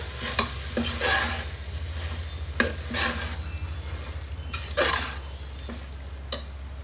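Lentils and greens are stirred and lightly roasted in a pan, with close scraping stir strokes over a soft sizzle and a steady low hum.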